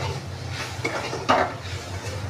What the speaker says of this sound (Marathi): आता आपण नारळ असा म्हणजे ओल्या नारळाची खव आणि साखर असं चांगलं परतून घेऊ.